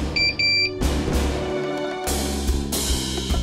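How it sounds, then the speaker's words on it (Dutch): A home water leak sensor alarm sounds: a rapid series of short, high electronic beeps at the start, followed by louder bursts of other nearby noise, with no talk. "Deze geeft alarm, ja, alsof als water in die bak komt te staan"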